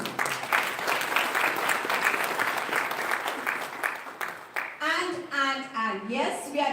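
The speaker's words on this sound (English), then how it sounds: "Big round of applause for the symposium title" Audience applause at an international summit at Phadtare Knowledge City, steady clapping for several seconds that gives way to a voice speaking.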